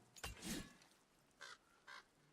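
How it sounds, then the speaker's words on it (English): Crow cawing in God of War, two short harsh calls spaced about half a second apart, clear but moderately faint, following a louder rustling burst, with no talk over them. "Wait, I heard a crow."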